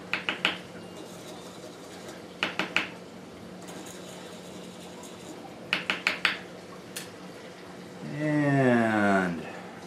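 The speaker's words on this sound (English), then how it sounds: "we'll use our stick to stir it again" A stick stirs an aquarium water test sample in a small vial, making short bursts of clinking taps, followed near the end by a brief warbling squeal.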